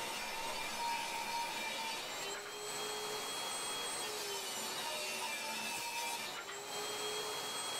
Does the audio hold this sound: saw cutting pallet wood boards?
yes